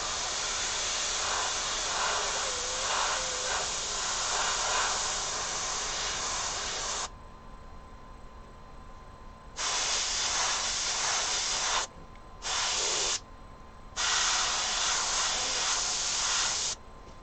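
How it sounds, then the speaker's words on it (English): An airbrush sprays paint over a stencil on a denim jacket in a steady close hiss, running long at first and then in several shorter bursts separated by brief pauses, with no talk. "So I'm spraying very little over the stencil"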